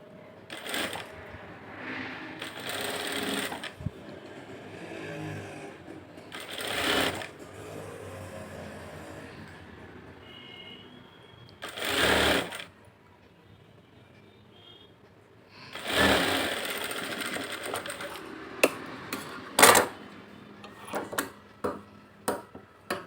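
A sewing machine stitches a blouse lining in several separate loud bursts, each a few seconds long, with quiet handling between and a quick run of short clicks near the end.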